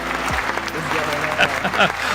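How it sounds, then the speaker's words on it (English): An applause sound effect plays during a podcast episode, giving a continuous patter of clapping from a crowd mixed with someone talking over it. "I got the applause going."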